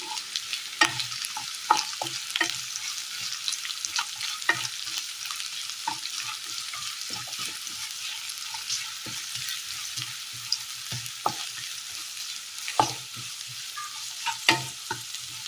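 Onions frying in oil in a pan for a Kerala-style sardine curry, a constant hissing sizzle with occasional spoon scrapes and stirring taps, close and unaccompanied by talk.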